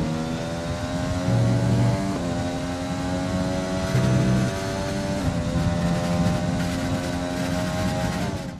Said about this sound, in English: I'm going to leave you on board now with the Honda engine sounds